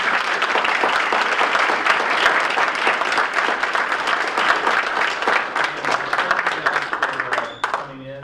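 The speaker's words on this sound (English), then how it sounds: "One more round of applause for our panel." Audience applauds a broadcasting panel at a university media day event, with dense steady clapping that fades toward the end as voices begin.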